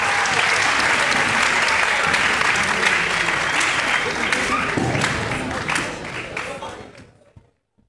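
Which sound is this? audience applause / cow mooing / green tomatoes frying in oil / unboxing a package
audience applause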